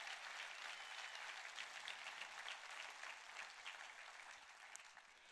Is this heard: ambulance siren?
no